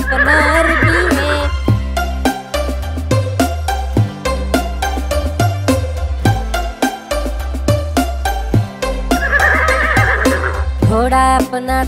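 Horse neighing heard twice, near the start and again near the end, as a sound effect layered over bouncy music in a Hindi children's rhyme about a galloping Arabian horse.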